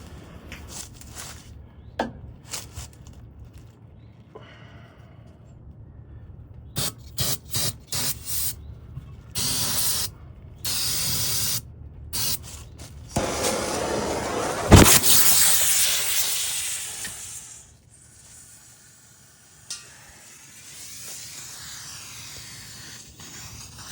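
Compressed air hisses in repeated blasts, then in one long sustained rush, while inflating a tire to seat the bead on a cheap used tree chipper in a shop, ending with a sharp pop and quieter trailing hiss.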